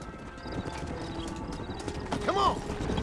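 Horse hooves clip-clopping in a steady rhythm on a ranch in Red Dead Redemption, with a short whinny partway through, fairly close and continuous throughout.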